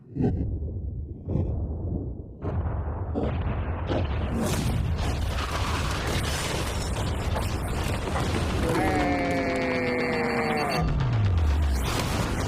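A yacht is blown up in an explosion: a few dull thumps build into a loud, sustained roaring blast that fills the sound, with tonal sweeping tones near the end.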